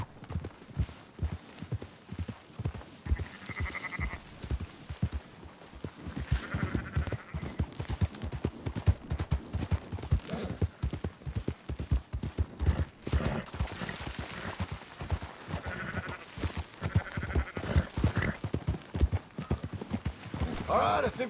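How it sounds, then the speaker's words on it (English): Horse hooves clip-clop steadily through a sheep-herding ride in Red Dead Redemption 2, with occasional sheep bleats mixed in and voices talking over the continuous hoofbeats. "Marston, why don't you leave the sheep to me?"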